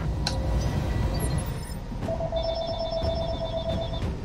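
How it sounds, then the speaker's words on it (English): A telephone rings partway through, a steady electronic trill that starts suddenly and carries on loud and clear over a constant low background rumble. "And of course, the phone rings."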